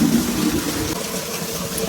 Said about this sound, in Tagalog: Dagdagan ko pala ng konting tubig.